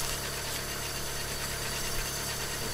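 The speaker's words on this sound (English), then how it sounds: "This car stuck revving." A steady car engine drone in the video game DayZ holds at a constant high pitch, stuck revving, loud and continuous with no talking.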